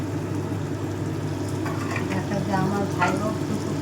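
Fish curry broth, thinned with spice water, boils in a pot with a steady, close bubbling and sizzling hiss, a few sharper pops rising near the end.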